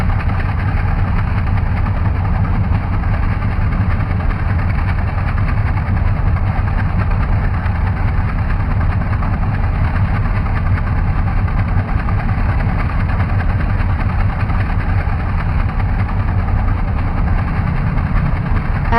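An Antonov An-2 radial piston engine idles steadily in a PC flight simulator, a continuous loud rumbling drone with an even texture and no voices.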